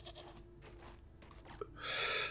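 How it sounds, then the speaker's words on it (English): Male goat in the TerraFirmaCraft video game giving one short, clear bleat at the end, preceded by faint mouse clicks and keyboard taps. "It's a male goat"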